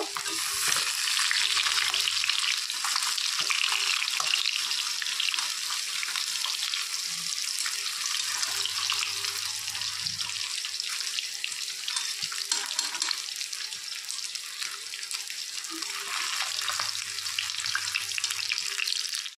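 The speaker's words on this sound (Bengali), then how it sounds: "আর এক পাশও একটু লাল লাল করে ভেজে নেব।" Katla fish frying in hot oil in a pan, a steady loud sizzle running unbroken throughout, with a few faint clinks and stirring touches underneath.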